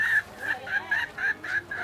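A bird-calling whistle blown to imitate a chicken gives a rapid series of short, high clucking chirps, about seven bursts in under two seconds, close and fairly loud.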